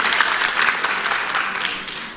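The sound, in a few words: applause for the jury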